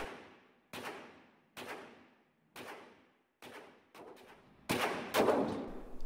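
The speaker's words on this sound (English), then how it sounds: "I actually start shooting with the P10 first" Shots from a P10 pistol ring out at a range in sharp bursts, about eight reports spaced roughly a second apart with some closer pairs, each loud and crisp with a decaying tail and no talking.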